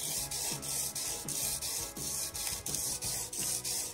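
A hand plane blade is worked back and forth on a sharpening stone during a restoration. About six steady, rhythmic rubbing strokes sound close and clear, with no talking.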